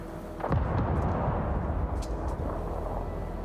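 Lightning strike in the video game Avatar: Frontiers of Pandora: a sharp, loud thunderclap cracks once near the start, then a deep rolling rumble lingers under a steady wash of ambient noise.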